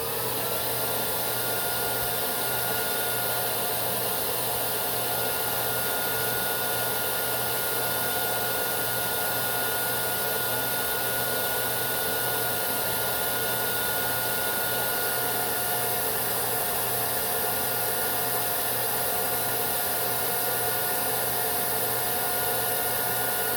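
A Hoover S3341 Constellation vacuum cleaner runs steadily with airflow drawn through the end of its extended wand, a constant broadband whoosh with a faint motor whine holding level throughout, no pauses or talk.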